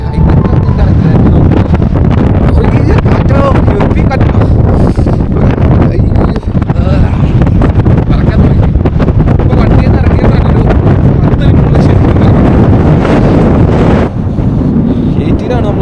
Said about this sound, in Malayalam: ഈ കാറ്റും കൂടെ അടിക്കുമ്പോൾ നമുക്കത് അവിടെ നിൽക്കാച്ച പാടാ